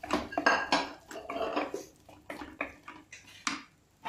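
Taro root pieces tipped into a cooking pot for a spiced curry with gravy, giving a string of clattering, knocking thuds against the pot over about four seconds, fairly close and with no talk.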